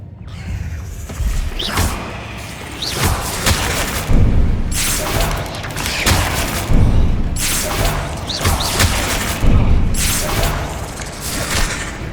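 Loud Confringo spell explosions in Hogwarts Legacy while battling spiders, several heavy booms and crashing thuds arriving in bursts every few seconds, close and forceful against a busy game soundscape.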